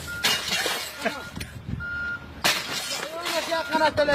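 A television set is struck and smashed, with two sharp crashing impacts and scattering breaking glass while several people talk and shout loudly throughout.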